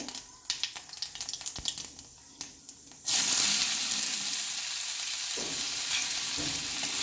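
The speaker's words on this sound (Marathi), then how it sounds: "कांदा हा मध्यम आचेवर छान आपण परतून घेतलेला आहे" Onion hits hot oil already holding mustard seeds and cumin over medium heat: a few scattered clinks and stirring scrapes, then a sudden loud, steady sizzle that carries on close and continuous.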